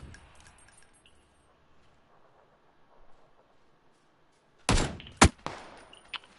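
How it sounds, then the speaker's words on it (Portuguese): Gunfire from the game PUBG on PS4: after several quiet seconds, a short loud burst of shots breaks out, followed by a couple of sharper single cracks and fading echoes. "Começa a dar tiro lá que vai"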